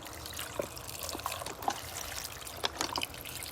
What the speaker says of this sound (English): I'm going to fill up with beef broth